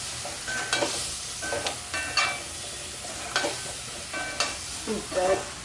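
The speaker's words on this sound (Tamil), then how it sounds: "இப்போ நல்லா வதக்கி விட்டுக்குவோம் வதக்கணும்" Brinjal pieces stir-fried in oil with chili powder for Chettinad brinjal kuzhambu, a soft continuous sizzle broken by repeated scraping strokes of a spatula against the pan, spaced about a second apart.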